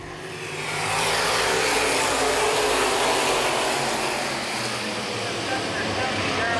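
Open-wheel modified race cars at a short oval speedway roaring up to speed together at the green flag, a loud sustained engine drone that swells in the first second and holds, with an announcer talking over it.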